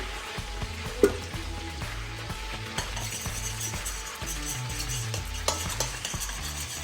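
A butter roux for fried chicken gravy is stirred in a pan, a soft low sizzle under repeated scraping and knocking of a utensil against the pan, close and uneven in rhythm.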